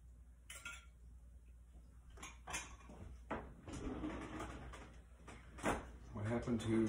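Dishes and utensils clink and clatter while baked haddock and mac and cheese are plated in a kitchen, scattered light taps and scrapes close by, with people talking over them.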